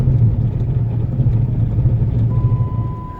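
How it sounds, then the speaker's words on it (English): A Jeep Compass braking on pure ice after a blizzard, its ABS working with a steady low rumbling pulsation under constant road and engine noise, close and fairly loud, with no talk. "So what you can hear is the ABS trying to do its work, but there's no way."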